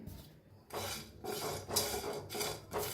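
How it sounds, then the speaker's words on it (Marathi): Whole masala tea spices dry-roasting in a small kadhai, with repeated scraping and rattling of a utensil against the metal pan in bursts, close and fairly loud, with no talk. "अरे बघा एक बारकी कढाई, त्याच्यात हे सगळं जे ना भाजून घेऊया आपण।"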